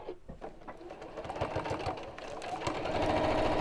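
A sewing machine stitches fabric close by, its rapid rhythmic whirring and needle clatter running continuously and growing louder.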